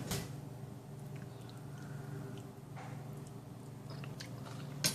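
Tortilla chips with tomato salsa being chewed close up, soft crunches and moist chewing at a quiet level over a low steady hum.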